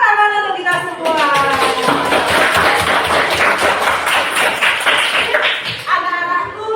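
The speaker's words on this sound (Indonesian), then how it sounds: "Beri tepuk tangan untuk kita semua." Children in a classroom clap their hands together, producing loud, close, rapid rhythmic claps that carry on throughout with voices of children mixed in at the start and end.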